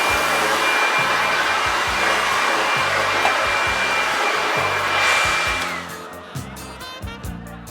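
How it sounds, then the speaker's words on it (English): A Humble Blower Vac electric blower, rated at 1900 watts, roars steadily and loudly at close range, then spins down and cuts off near the end, leaving a few faint knocks. "That's right, the Humble Blower Vac."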